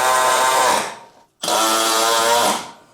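A power tool drives bolts on a 1970s Toyota Celica RA28 fastback under restoration, in two loud, steady whirring bursts of about a second each, separated by a brief pause.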